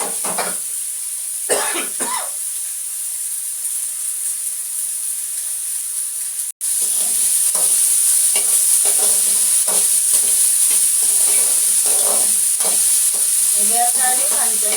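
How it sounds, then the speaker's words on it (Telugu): Sliced ridge gourd fries in hot oil with a steady, bright sizzle while a spoon scrapes and stirs it in bursts. A cough and some throat clearing break in nearby. "బీరకాయలు కొంచెం వేగాలండి."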